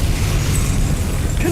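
Repulsor spell cast in the Hogwarts Legacy video game on PS5: a loud, sustained low rumbling blast with a dense bass roar, holding at steady strength for its whole length.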